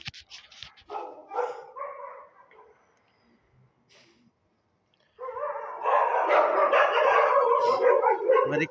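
A dog barks and howls nearby, with a few sharp barks and drawn-out howls at first, a quiet pause, then a long, loud stretch of continuous barking and howling.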